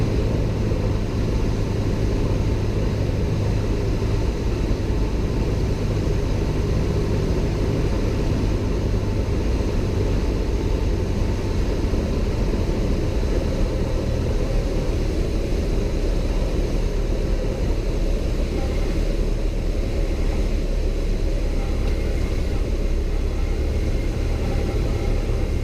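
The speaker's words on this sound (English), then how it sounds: "There's decision altitude. Everything looks good, and we are go for landing." Steady, loud engine drone of a small single-engine airplane on final approach to land at Davidson County Airport, a continuous rumble and hum that holds unbroken with no speech.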